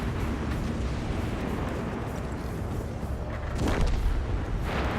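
Artillery shells and gunfire crash around a tank in World of Tanks, a continuous heavy rumble with a couple of sharper booming impacts near the end, loud and close.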